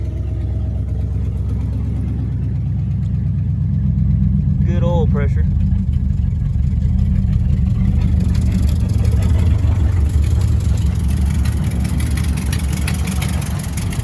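A 1955 Buick engine idles steadily while warming up after a radiator replacement, a low, even rumble running throughout; someone speaks briefly over it.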